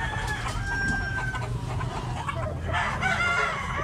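A young stag rooster crows nearby, a drawn-out call rising and falling over a few seconds, with other chickens clucking and rustling in the background.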